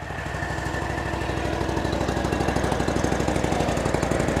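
A lawn dethatching machine's engine runs at lowered RPM, a close, steady putter with a fast pulsing rhythm that grows slightly louder, with no talk.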